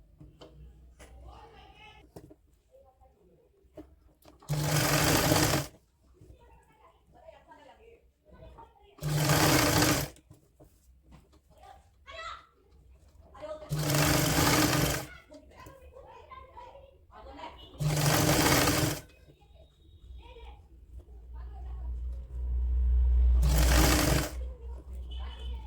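A sewing machine stitches a woolen kurti in five loud bursts of rapid whirring, separated by quieter stretches where someone talks.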